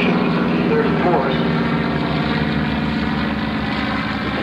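Propeller planes, a Stearman biplane flying in tight formation with T-34s, give a continuous loud droning engine roar overhead, steady throughout, with a voice speaking over it.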